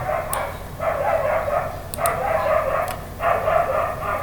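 A dog barks in repeated bursts of about a second each, fairly close and loud, with a few short yips between, over steady room background.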